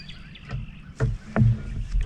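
Paddle strokes splash and knock against a small boat on open water while a minnow on a bobber trails behind for trolling, a few close uneven strokes over light wind.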